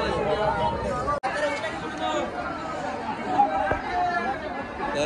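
Dense crowd babble at a packed temple in Jejuri or Pandharpur: many voices overlap close by in a continuous, loud hubbub with a brief drop near the start.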